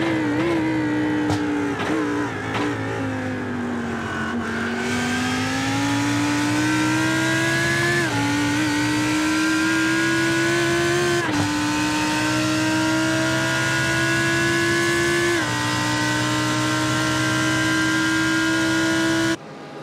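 Onboard a Lamborghini GT race car in the SP9 class, its engine holding a loud, steady high-pitched roar that dips briefly at each gear shift and then climbs again, with no talk over it.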